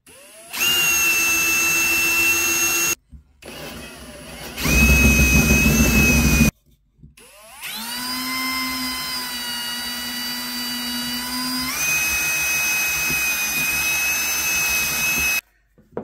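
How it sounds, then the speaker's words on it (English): A power drill bores holes in parts for a custom handmade lamp. Several loud, steady whining bursts sit close to the microphone, with short pauses between them and a shift in motor pitch partway through one run. "Now it's time to drill some holes."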